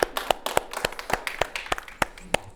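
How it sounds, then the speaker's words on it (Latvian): Applause from a small group indoors, made of sharp, distinct hand claps in a loose rhythm that carry on steadily throughout. "tev ir pelnīti aplausi"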